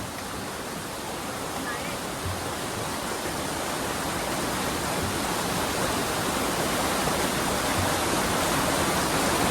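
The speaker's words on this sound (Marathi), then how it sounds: "आणि फायनली मार्ग शोधला आणि धबधब्यापर्यंत पोचलो." Rushing water of Saat Sadda, a hidden waterfall in Maharashtra, a loud, steady roar of falling water close by.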